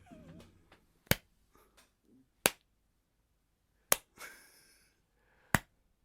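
Four sharp, loud, isolated hand claps, spaced roughly a second and a half apart, make a Foley-style imitation of Iron Man banging. Brief quiet voice murmurs and soft noises fall between the claps.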